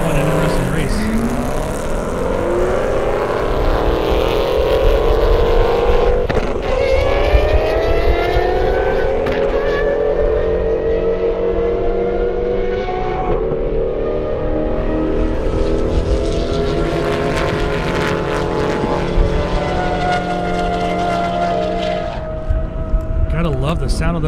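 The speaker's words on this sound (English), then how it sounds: "Love the sound of those Aventadors." Lamborghini Aventador engines roar at an airstrip drag race, a loud sustained howl with rising and falling pitch sweeps as the cars accelerate and shift, with a voice talking over the engine noise.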